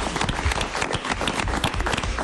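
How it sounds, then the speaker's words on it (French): A studio audience on a live French television show applauds, with dense, continuous clapping that stays loud and even for the whole clip. "Est-ce qu'on peut applaudir Roxane?"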